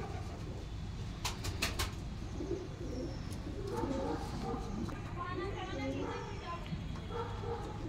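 Punjabi Malwai pigeons coo in soft, repeated low calls close by, mixed with fluttering and scattered clicks, while someone talks over them throughout.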